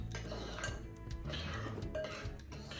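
Oatmeal raisin cookie dough being mixed in a bowl, quick scraping and clinking of utensil against the dish in close, busy strokes, with a voice speaking faintly underneath.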